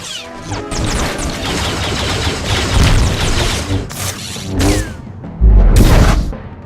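Loud, dense game combat from Star Wars: The Old Republic, with bounty hunters on jetpacks firing missiles: whooshing thrust, rapid bursts of gunfire and crashing explosions, capped by a heavy boom near the end.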